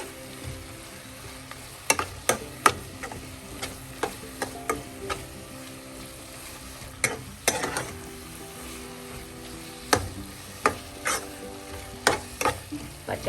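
Crab roast masala with pepper powder is stirred in a pan, the spoon scraping and knocking the pan in repeated sharp strokes over a constant close sizzle, with no speech.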